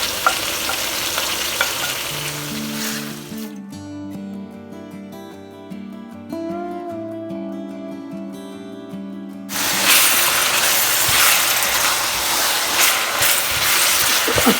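Tomatoes and green chillies frying and being stirred into browned onions for a Hyderabadi chicken karahi, with a steady loud sizzle that drops back under music in the middle before the hissing fry returns strongly.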